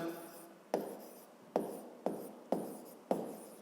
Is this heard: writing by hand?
yes